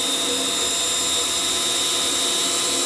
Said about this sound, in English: Okay, so the first one I'm going to put through here is just the pilot hole.